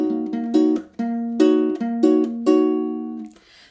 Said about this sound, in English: The song uses kind of a fun bossa nova pattern